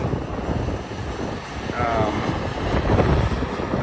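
Strong wind buffets the microphone at a mine fire excavation site where ash is being dug out, a loud continuous rumbling roar that surges and dips throughout.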